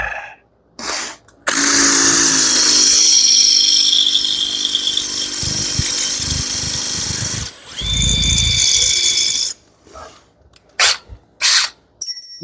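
A drill bit grinds loudly through a 1/4 inch hard steel plate toward cast iron, a steady harsh whine lasting several seconds, breaking off, then resuming in short bursts separated by pauses.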